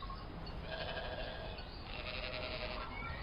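Sheep bleat in a grazing field in ancient Canaan, their calls rising over a steady, noisy outdoor backdrop, with several animals sounding at once at close to moderate range.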